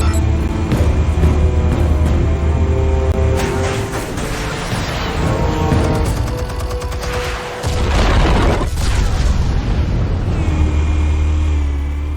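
Explosions and heavy crashing in Batman: The Telltale Series, a dense, loud barrage of booms and rumbling impacts with a brief dip before the roar resumes, backed by game sound.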